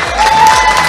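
Audience applause and cheering fill the room at an awards ceremony, a dense steady clapping crowd heard up close for under a second.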